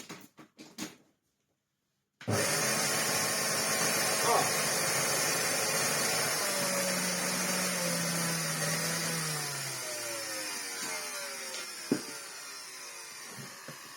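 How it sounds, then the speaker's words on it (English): A burnt-out Hoover Turbopower 2 Autosense vacuum cleaner motor starts abruptly after a few knocks and a short silence, then runs loud and steady with a rough, whining drone that slowly shifts pitch before settling down. "That is not a happy Hoover Turbopower 2 motor."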